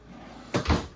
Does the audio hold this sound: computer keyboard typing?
no